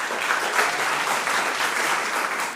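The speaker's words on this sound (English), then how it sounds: "A round of applause for them." Applause for school quiz contestants at a junior high quiz show, steady crowd clapping at moderate volume, continuous and unbroken for a couple of seconds without talk.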